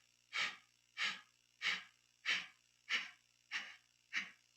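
Seven evenly spaced breathy exhalations, pushed out in short separate bursts during a Kundalini yoga exercise, close and clear against near silence.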